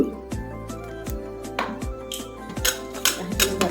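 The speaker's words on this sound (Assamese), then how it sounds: "কেৰাহী এখন লৈছোঁ আৰু এটা ষ্টেণ্ড লৈছোঁ।" A metal stand set into a kadai wok on a stove, with several sharp metallic clanks and rattles in uneven rhythm, close and fairly loud, and no voices.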